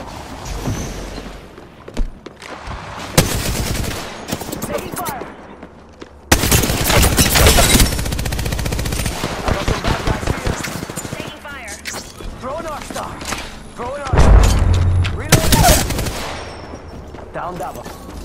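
Bursts of automatic gunfire and single shots in the battle royale shooter Apex Legends, loud and repeated across the clip in several clusters, with squad voices talking over the firefight.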